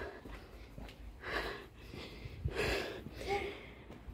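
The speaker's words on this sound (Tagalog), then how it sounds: "Hinihingal na ako." A person climbing a steep uphill path toward a hilltop chapel in France breathes hard and raggedly, with several close, noisy huffs and pants in an uneven rhythm and no words spoken.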